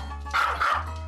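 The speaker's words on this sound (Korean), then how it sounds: "방금 전보다 더 심하게 짖어대기 시작하는데요" A Maltese dog barking aggressively, two sharp close barks in quick succession over a low steady hum.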